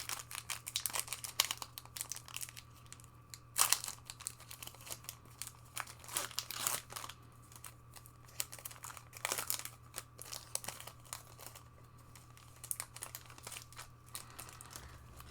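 A Magic: The Gathering booster pack from a March of the Machines Aftermath bundle is torn open and handled, close crinkling foil wrapper noises in irregular bursts with sharp tearing rips, alone over a quiet low hum.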